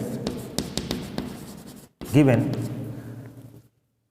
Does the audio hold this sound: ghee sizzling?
no